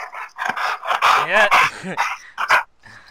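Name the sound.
dog barking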